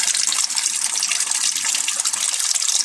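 Water gushes loudly and continuously from a leaking pipe, a close, steady hissing rush with no pauses or voices.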